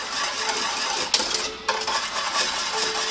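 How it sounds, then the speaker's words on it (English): A whisk scraping and stirring around the edges of a pot of pumpkin soup thickened with flour, giving a steady metallic clinking and swishing with a couple of sharper taps, close and loud. "So take your whisk, just kind of work it around the edges of the pan."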